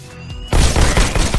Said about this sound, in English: That rogue bot has a shotgun.